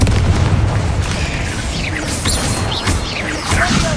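Spell blasts from Hogwarts Legacy, including Confringo and Bombarda, land as dense booming bursts and crashes over a constant loud rumble, with swooping magical whooshes running throughout.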